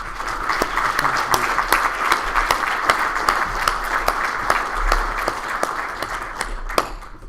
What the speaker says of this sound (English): I just want everyone to give Paul a round of applause for this